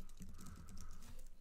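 Faint rapid clicks of a computer keyboard as someone types, a quiet continuous patter of keystrokes with no voices.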